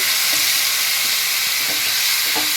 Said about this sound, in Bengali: ফোড়নটা একটু কয়েক সেকেন্ড ভাজা ভাজা হবে হিং দিয়ে দিলাম